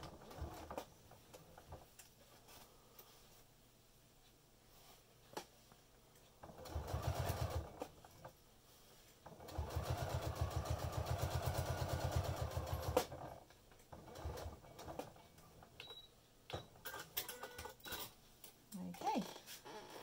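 A sewing machine top stitching along the side of a zip on a fabric pouch, running in two steady loud bursts of rapid mechanical whirring with quieter handling noises between, no talking.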